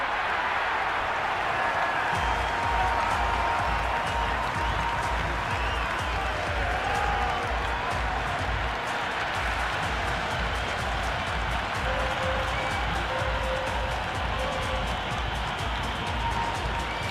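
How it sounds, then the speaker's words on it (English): A packed cricket stadium crowd at an India vs South Africa T20 match roaring and applauding in a dense, continuous wall of noise, broad and sustained throughout with faint voices buried in it. "The crowd are really getting quite raucous."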